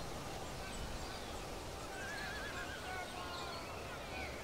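Horses neigh and whinny amid the faint, steady battlefield ambience of a medieval strategy game, the calls quiet and distant under a constant wash of noise.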